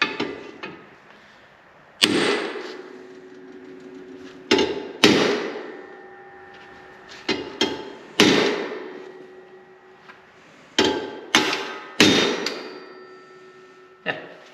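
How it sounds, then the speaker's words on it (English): A welded metal bend is hammered down with about a dozen irregularly spaced, ringing clangs, each strike loud and close with a short metallic decay. "We need to just hammer it down a little bit."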